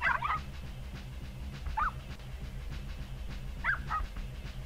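A dog gives three short barks in Army Men: Sarge's Heroes, spaced a second or two apart and fairly faint over a steady low game hum, with no talking.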